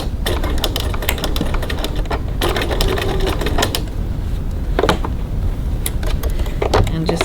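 A sewing machine stitching a gusset seam at 3.4 stitch length, a rapid close mechanical rattle running almost continuously with brief pauses and small clicks.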